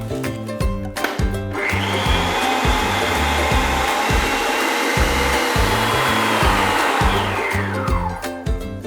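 A handheld electric mixer beats batter for an English pound cake, a steady loud whirring drone that starts after a brief rattle and runs continuously before winding down at the end, with no talking.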